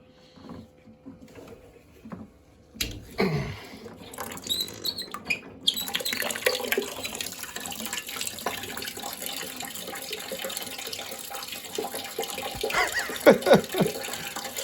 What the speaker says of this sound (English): Let's take some water out of the boiler.